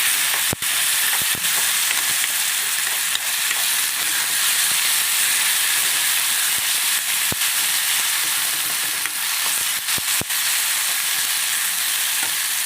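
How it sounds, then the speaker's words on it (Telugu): Ginger garlic paste fries in hot oil with a constant close sizzle and hiss, broken by a few sharp clicks or taps of a spoon against the pan. "ఒక అర స్పూన్ వేసుకోండి అల్లం వెల్లుల్లి పేస్ట్ ఎక్కువ వేయద్దు వేసి కొంచెం బాగా ఫ్రై అవ్వాలి ఆయిల్లోనే"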